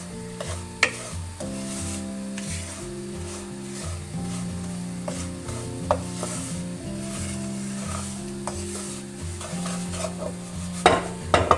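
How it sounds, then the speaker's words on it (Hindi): Semolina roasts in a pan for egg halwa while a spoon keeps stirring, producing a continuous scraping and faint sizzle with periodic clinks against the pan, close and steady with no talking. "अभी सूजी भुन रही है"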